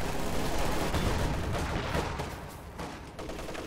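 Sustained automatic weapon fire from a light machine gun in Company of Heroes 2, a dense, continuous rattle of rapid shots with explosive battle noise mixed in, loud and steady throughout with no talking.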